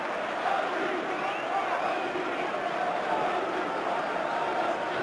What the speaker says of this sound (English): The Watford crowd appreciating it as well.